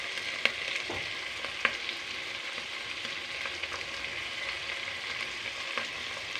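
Onions and whole spices fry steadily in a pan for kappa biriyani, a continuous crackling sizzle with occasional clinks of stirring and no talk.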